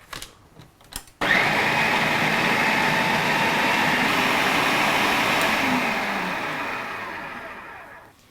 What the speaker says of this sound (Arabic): حنطفي عنهم ونحطهم بالبلندر كرمال يصيروا صوص عنا